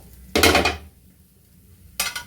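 A dosa spatula pokes a dosa-batter pizza cooking in a pan over low heat, giving two short bursts of clattering metal-on-pan contact with a quiet pause between them.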